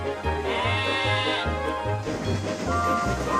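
Sheep standing on a railway line give a few loud, wavering bleats, one after another, over a steady low rhythmic pulsing.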